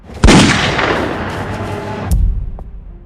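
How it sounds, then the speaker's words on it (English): A single loud gunshot cracks near and sharp, its boom rolling and decaying over the next two seconds, followed by a thud and a brief rattling clatter. "in the chaos, a fool fired a shot"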